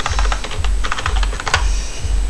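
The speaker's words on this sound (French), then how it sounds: "j'utilise quelques raccourcis clavier" Rapid keyboard shortcuts tapped on a computer keyboard while working in Manjaro LXQt Linux, a close, crisp run of clustered key clicks with one louder press near the end, steady hum beneath and no talk.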